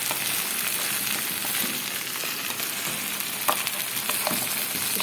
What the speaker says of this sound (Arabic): بعمل رز بشعريه بشوحه كويس جدا